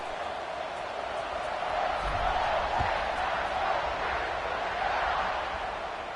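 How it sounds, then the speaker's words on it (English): A large stadium crowd at an American football game between the Buckeyes and Trojans keeps up a steady, dense roar, swelling slightly midway, with no single voice standing out. "this crowd is buzzing after that last score"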